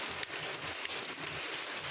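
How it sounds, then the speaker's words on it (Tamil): Hail falls during a storm in Chennai with a dense, hissing patter like heavy rain and a couple of sharper hits standing out, steady and fairly soft throughout. "இந்த மலை பேர் வந்து ஆலங்கட்டி மலைன்னுவாங்க."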